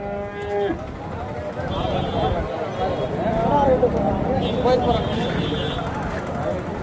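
Cattle and calves at a cow market, a loud moo opening over a busy crowd, with further lowing and people talking throughout.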